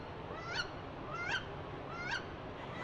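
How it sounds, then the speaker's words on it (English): A recorded wood duck call plays at a nature exhibit: three separate rising, squealing whistles about a second apart, clear and moderately loud against a quiet room background. "Maybe a wood duck."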